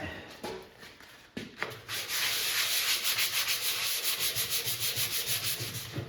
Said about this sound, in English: finish up sanding it down with some 180 grit and 220